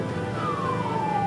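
A fire engine siren at a factory fire in Tangerang Regency gives one long wail that slides gradually downward in pitch, heard at a distance over steady background noise.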